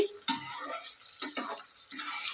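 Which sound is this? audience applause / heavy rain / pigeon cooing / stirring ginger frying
stirring ginger frying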